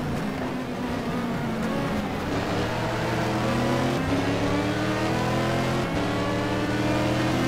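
Race car engines roar continuously in a racing video game, one car revving and shifting through gears up close while another prototype car's engine whines from behind, loud and steady throughout.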